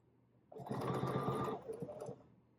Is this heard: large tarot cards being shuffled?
no